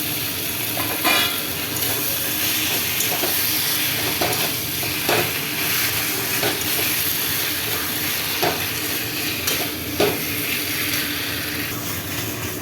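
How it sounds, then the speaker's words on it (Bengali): Taro greens and a hilsa fish head are stirred in a hot pan, making a dense continuous sizzle with periodic scraping strokes from the stirring, close and fairly loud. "শাকটাকে ঘন ঘন একটু নাড়তে হবে, তরকারিতে পোড়া লেগে না যায়।"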